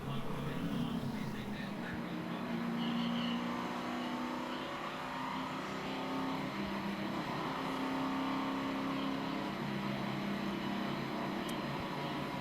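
NASCAR race cars at Talladega Superspeedway roar past at a distance in a continuous blended engine drone, with pitch sweeps as the pack passes, steady and moderately loud throughout.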